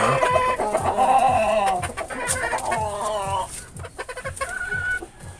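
Pullet chickens cluck in close, repeated bursts alongside other farm fowl, busy and fairly loud with overlapping calls and no talking.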